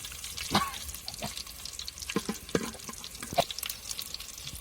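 Mustard seeds fry in oil with chilli and garlic over a village cooking fire, giving a soft background sizzle broken by scattered sharp pops and crackles.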